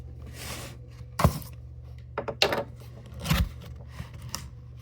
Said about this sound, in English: we're gonna get this thing cut up from behind.